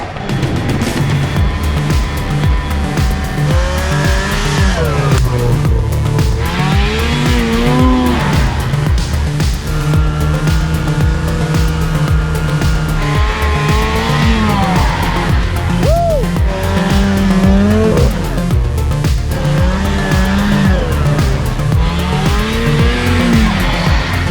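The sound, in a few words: snowmobiles riding in snow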